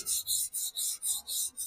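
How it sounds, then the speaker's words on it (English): Hand sanding of a bicycle frame with 150-grit sandpaper, a steady series of seven raspy back-and-forth strokes, each a hissing scrape in an even rhythm, close up with no talking. "I just rub it across the frame, trying to take out all the imperfections that my power tools left"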